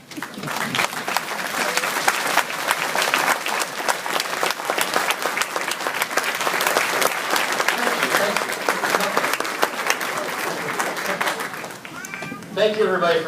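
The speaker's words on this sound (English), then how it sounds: "all of you will stand up and give him a thunderous applause" A graduation audience gives a long burst of thunderous applause for a student's speech, dense clapping filling the hall throughout with crowd voices mixed in, fading slightly near the end.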